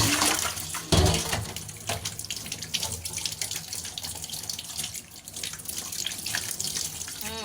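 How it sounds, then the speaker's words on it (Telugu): Wheat flour dough for a chapati is washed by hand under a running kitchen tap, giving a continuous, close, splashing rush of water with small sloshes and drips as the dough is handled, and no talk. "ఒక చపాతీకి అంత తీసాను కడుగుతున్నాను చూద్దాం"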